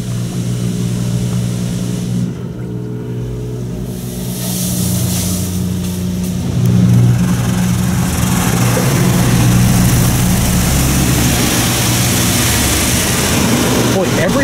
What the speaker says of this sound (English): every single jet on this thing is actually working, and they're all working perfectly